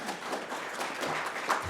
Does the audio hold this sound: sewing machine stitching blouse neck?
no